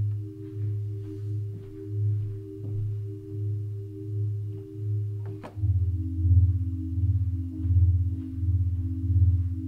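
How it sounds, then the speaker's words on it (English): A soft synth pad in a sad lofi beat alternates between two sustained chords, swelling in gentle repeating pulses at a moderate, low volume, with faint light percussion ticking underneath. "So one of the first additional instruments I added in the song is this pad."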